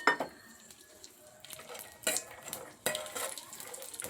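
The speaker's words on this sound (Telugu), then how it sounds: "కాజు, బాదం, కిస్మిస్ నెయ్యిలో వేపుకుందాం." Cashews, almonds and raisins fry in ghee with a faint sizzle beneath repeated metallic clinks and scrapes of a spoon stirring the pan.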